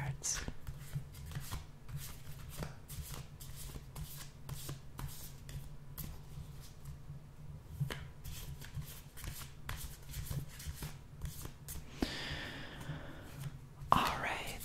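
Tarot cards are shuffled and riffled repeatedly in soft, close bursts, with a low steady hum underneath and a brisker riffle near the end.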